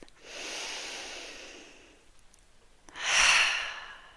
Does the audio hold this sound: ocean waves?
no